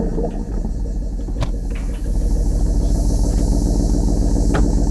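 Fake exhaust sound played for a Tesla Model 3, a deep rumbling engine drone with a pulsing low-end throb, steady and fairly loud, no voices.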